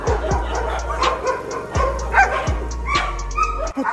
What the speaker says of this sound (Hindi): ओ कुत्ते पीछे पड़ गए